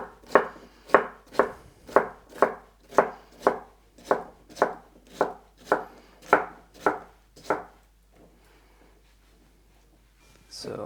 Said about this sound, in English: And finally cut into cubes.